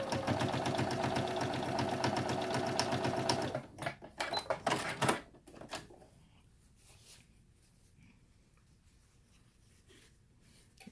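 A sewing machine topstitches straight down the center of a fabric face mask in a loud continuous run, then stops after a few seconds, leaving a handful of faint clicks and handling sounds.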